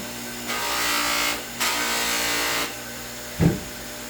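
A polishing machine with a sisal wheel, loaded with brown compound to remove scratches from a knife, gives three loud bursts of whooshing, rubbing noise separated by short pauses, ending with a sharp knock.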